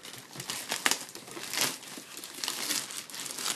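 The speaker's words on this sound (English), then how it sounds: "I'm just going to take it out of its wrapping here." Plastic wrapping crinkles and rustles steadily as a new Maketoys MT-03 Hypernova toy is unwrapped, close and fairly loud, with dense irregular crackles and no talking.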